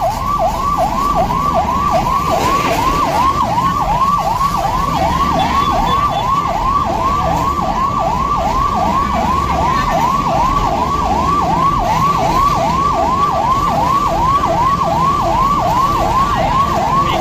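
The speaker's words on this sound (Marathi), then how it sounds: "अग्निशमन दलाची ही गाडी त्वरित आली व आग विझवण्यात आली" A municipal fire engine's siren wails loudly and close by in a fast, repeating up-down cycle that holds steady for the whole stretch, with faint traffic rumble beneath.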